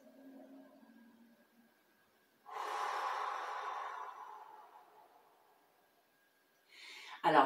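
A person doing an expansive breathing exercise takes one long, loud, deep breath lasting several seconds, preceded by a faint hum and followed by silence, then a short sharp gust of breath at the end.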